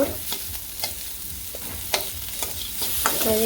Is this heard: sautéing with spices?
yes